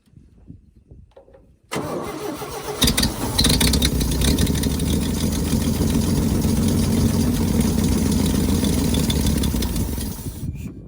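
An old oil field engine, a salvaged find, fires up after a quiet moment and settles into a steady, loud, rhythmic idle that runs on for several seconds before easing slightly.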